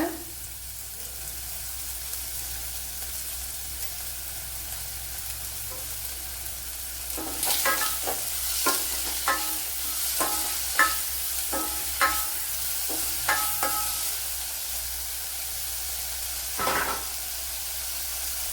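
Sliced onions with a little salt sautéing in a pan for a Kerala padavalanga theeyal sizzle softly and steadily, then a spoon scrapes and clinks against the pan in a run of sharp stirring knocks.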